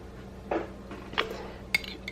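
A spoon clinks against glass jars while ladling homemade turkey soup, a few separate light clinks and scrapes, close and fairly quiet, with no talking.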